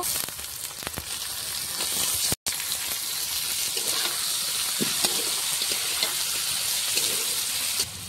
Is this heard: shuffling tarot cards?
no